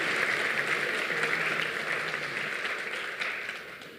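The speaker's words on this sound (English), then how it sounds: "Give them a round of applause." An audience at an awards ceremony applauds student musicians with sustained, dense clapping that holds steady and then slowly tapers off.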